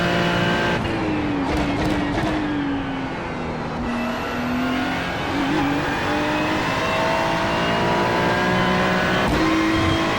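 A GT3 race car in the iRacing sim screams through a lap, engine note rising and falling through gear changes, with upshifts and brief tire noise, loud and continuous with no speech.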